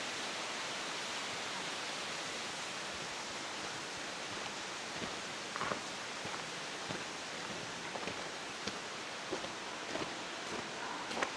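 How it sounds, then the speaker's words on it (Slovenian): A 70 m waterfall in Gorski Kotar sends up a soft, continuous, hissing roar that sounds distant and fairly faint, with a few small clicks and rustles near the end. "Čudovit slap."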